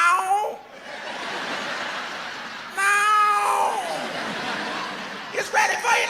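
Cats caterwauling while mating, imitated by a comedian's voice in drawn-out yowling meows before a laughing audience.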